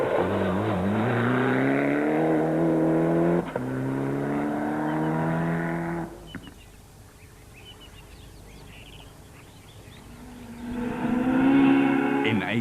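A VW Golf rally car races toward the finish with a loud, rising engine roar that climbs through the gears, falls quiet mid-clip, then revs hard again nearby.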